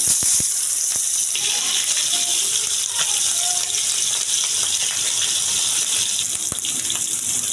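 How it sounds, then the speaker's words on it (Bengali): Loud, steady sizzling hiss of small hilsa fish pieces frying in hot oil, with a few soft pops and crackles near the start. "এবার তেলটা গরম হয়ে গেছে, আমি একে একে মাছগুলো সব দিয়ে দেব"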